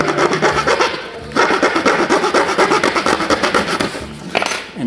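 A wooden dowel cut with a blade, giving a loud, close, rhythmic rasping with steady repeated strokes, a brief pause partway through, then more cutting.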